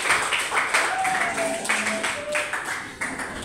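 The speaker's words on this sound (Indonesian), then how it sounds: "Silakan duduk dan tepuk tangan untuk kita semua." Scattered applause from a small group at the end of a theater class, moderately loud clapping mixed with some background voices and brief tonal sounds.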